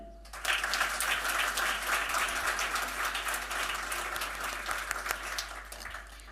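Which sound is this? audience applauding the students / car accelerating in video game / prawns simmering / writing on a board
audience applauding the students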